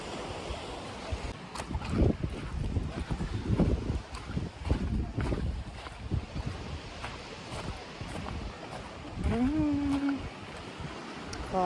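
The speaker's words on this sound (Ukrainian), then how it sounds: "Зараз ви будете чути звуки моря." Black Sea waves wash and break against the shore at Odesa in uneven surges, mixed with gusty wind buffeting the microphone; a brief tonal whine rises near the end.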